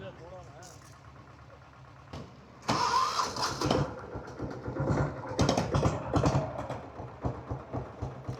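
A diesel Royal Enfield Bullet motorcycle with its governor removed fires up after a quiet stretch, then settles into a loud, uneven chugging idle with irregular knocks, close to the microphone as people talk nearby.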